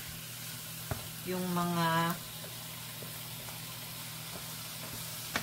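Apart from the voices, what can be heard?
chicken frying in its own oil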